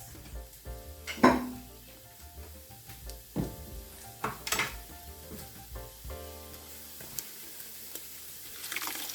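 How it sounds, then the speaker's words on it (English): A hot pan is deglazed while making Italian meatballs, giving a soft, hissing sizzle with utensil scrapes and light clinks of metal cookware throughout. "So I'm deglazing the bottom of the pan."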